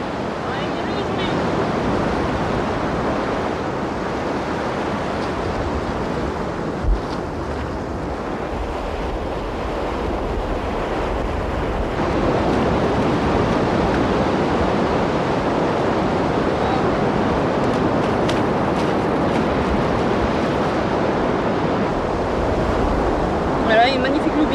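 Ocean surf washes steadily onto a French beach during surfcasting, a continuous broad roar of breaking waves mixed with gusty wind buffeting the microphone.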